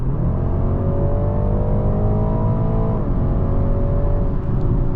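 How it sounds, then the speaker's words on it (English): Hard full-throttle acceleration in a 2023 BMW 330e hybrid in sport mode, heard from inside the cabin: a loud, steady engine roar with rising pitch, a brief dip near three seconds as it shifts, then climbing again. "let's do a full pedal accel"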